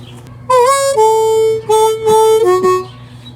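A harmonica plays a short phrase: a few clear sustained draw and blow notes, then two quick blows in succession, close and bright with no talking.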